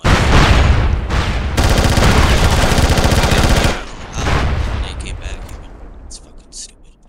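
Loud, close battle in SOCOM Combined Assault: sustained rattling gunfire and heavy grenade blasts for several seconds, then a second burst and scattered fainter shots trailing off, with voices shouting amid the noise.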